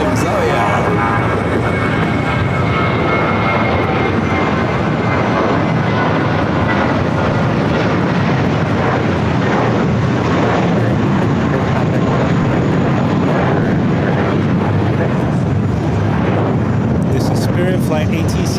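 An airliner at LAX on a flight to Milwaukee, its jet engines giving a loud, steady roar that fills the whole stretch without a break, with voices faintly underneath.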